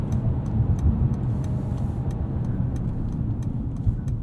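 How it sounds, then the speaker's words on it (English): A 2021 Mercedes-Benz E450 4Matic sedan's inline-six engine pulls under acceleration, heard from inside the cabin as a steady low drone with road rumble, plus faint regular ticking over it. "let's see what it's like opening this inline 6 up a little bit."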